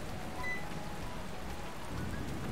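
Steady rain hisses in Pokémon Alpha Sapphire as a dense, continuous wash of patter at low level, even and unbroken throughout.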